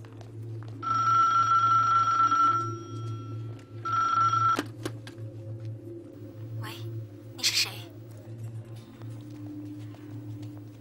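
A telephone bell rings in two bursts early on, then stops, over a steady low hum, with a brief click and some faint scattered noises afterward; no voices are heard.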